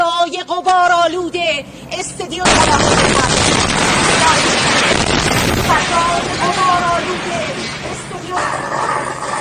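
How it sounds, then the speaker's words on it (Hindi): A sudden loud blast from a missile strike erupts after a few seconds of speech, followed by a sustained roar and rumble lasting several seconds, with voices continuing underneath. "देखिए, अचानक से धमाका हुआ,"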